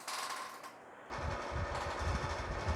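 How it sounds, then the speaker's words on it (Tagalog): An electric fan switches on partway through, its steady broadband whir with low rumbling filling the rest of the clip loudly and close to the microphone, with no talking. "Ayan guys, nakabukas na nga po ang ating electric fan."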